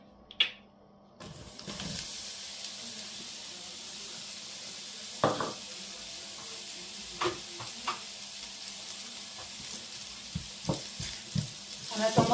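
Onions sizzling and frying in a pan for a home-cooked recipe, a steady hiss under intermittent clicks and scrapes of stirring, with occasional louder clatters of utensil on pan.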